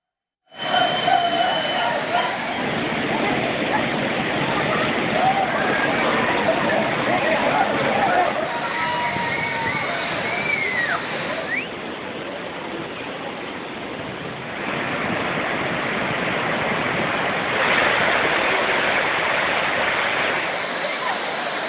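The Courtallam waterfall in heavy flood flow: a loud, continuous roaring rush of falling water that stays steady throughout.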